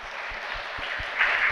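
Applause at a school idol event, a short, steady patter of clapping from a crowd with light rhythmic thumps underneath, swelling slightly near the end.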